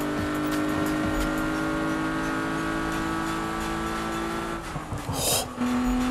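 Race car in Need for Speed 2015 roaring steadily through a tunnel at high speed, a loud continuous engine drone with a brief tire scrape and shift in pitch near the end.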